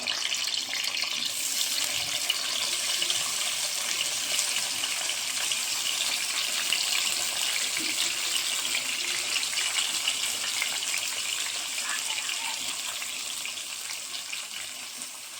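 Onions, green chillies and curry leaves fry in oil in a pan, giving a steady, dense sizzling hiss that stays even throughout and fades slightly at the end.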